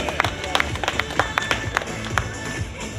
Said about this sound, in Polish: wielkie brawa za odwagę